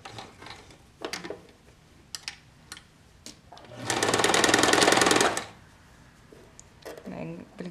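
A sewing machine back tacks a fabric face mask in one rapid, loud burst of needle strokes lasting about a second and a half, with someone talking before and after along with scattered handling clicks.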